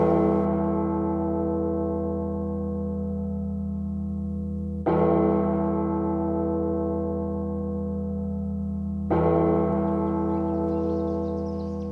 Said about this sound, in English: The slow tolling of the 9 bells for the De Profundis at the death of a